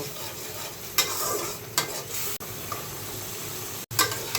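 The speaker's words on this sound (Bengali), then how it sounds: "সবগুলো মাংস দেওয়া হয়ে গেছে এখন আমি কষাবো এটাকে সুন্দর করে" Country chicken pieces fry with spices in a pan, a steady close sizzle broken by several sharp stirring scrapes and knocks at irregular intervals.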